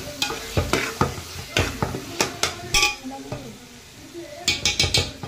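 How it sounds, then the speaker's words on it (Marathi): A whole cube of butter drops into a hot pan of sautéed ginger-garlic paste for pav bhaji, sizzling under sharp, repeated clatters of a spoon against the pan, close and fairly loud. "आता बटर टाकून देऊ पूर्ण 1 टिक्की।"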